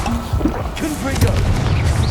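A Confringo fire-blast spell detonates in Hogwarts Legacy with a loud booming burst, set among dense game effects and a continuous rumbling background.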